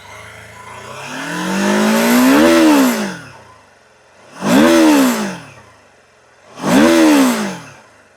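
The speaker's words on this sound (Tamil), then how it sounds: "ரவ் பண்ணுறேன்." An automatic BMW adventure motorcycle engine revved three times at close range, each rev rising smoothly to a peak and falling back to a low idle between blips, the first held longer than the other two.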